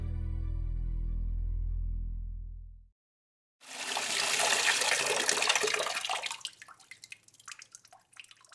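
Water runs from a tap in a steady low rushing stream that cuts off. A brighter splashing, spattering flow follows and tapers into scattered drips.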